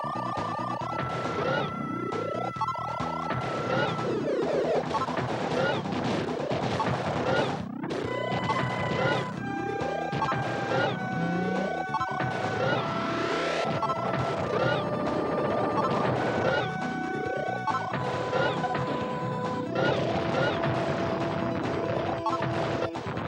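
Bombs striking enemy parts in the video game Battle Clash, a run of crashing explosion hits repeating every second or two over game music and falling whistle tones.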